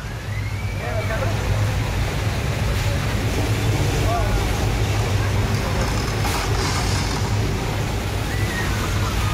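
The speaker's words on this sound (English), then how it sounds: "we use that exact same flash flood effect for a movie called Big Fat Liar" A rushing flash flood special effect on the Universal Studios Hollywood backlot tour, water roaring continuously and loudly close by for the full stretch, with faint voices underneath.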